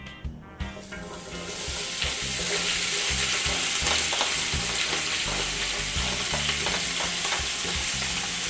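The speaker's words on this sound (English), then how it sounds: "So right here, guys, my season is being sauteed." Seasonings sauté in coconut oil in a pot for a Jamaican-style dish, a loud, steady sizzle and crackle that holds on throughout, with a few sharper clatters near the start.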